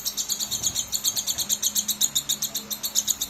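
A pet bird chirps in a quick, regular series of bright, close tweets, repeating steadily with no pauses and no voices.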